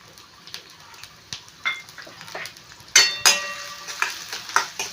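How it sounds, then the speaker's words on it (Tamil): Small onions (shallots) fry in oil in a pan for a Tirunelveli sodhi kuzhambu, a soft steady sizzle broken by sharp clinks and scrapes of stirring, close by with no speech. "இப்போ இந்த எண்ணெயில் வெறும் சின்ன வெங்காயத்தை கட் பண்ணி வச்சுருக்கேன்"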